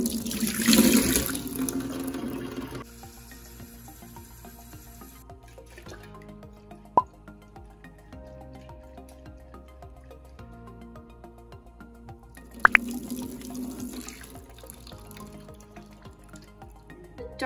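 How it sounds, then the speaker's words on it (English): Water pours and splashes as soaked sprout seeds are drained and rinsed, loud at first, then quieter trickles and drips with a couple of sharp clinks, followed by another burst of running water. "I'm gonna dump the water off and I'm going to rinse them"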